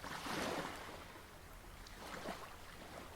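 Ocean waves surge and wash ashore faintly, a soft, rolling rush that swells at the start and again later, with light wind and no voices.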